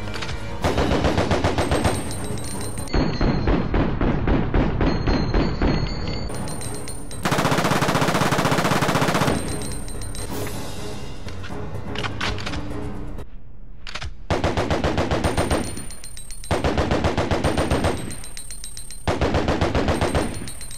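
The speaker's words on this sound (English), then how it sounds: "automatic weapon, the assault rifle, a gun suited for rapid firing" An assault rifle modeled on the M4A1, firing 5.56 caliber rounds in Resident Evil Outbreak, rattles off loud rapid-fire bursts of varying length, separated by brief pauses.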